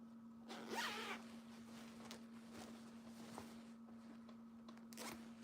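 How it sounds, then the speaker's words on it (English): A zipper on a skirt is pulled closed, a quick near rasping zip followed by small handling ticks and rustles, then a second short zip pull at the end, quiet room with a steady hum. "you can close the zipper and then the skirt would be one piece"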